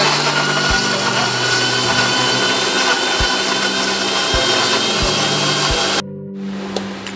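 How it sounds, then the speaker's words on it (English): Mixer grinder whirring loudly as it grinds green chilies into a spice paste, a steady motor drone with periodic knocks, then cutting off near the end, leaving a quieter room. "roughly grinded the bottom of the spice paste, not completely, so that I can add my other spices"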